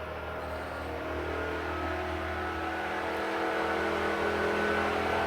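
A roulette wheel spins with a steady, continuous whirring hum that grows slightly louder, the rolling ball blending into the smooth rotation, with no talking.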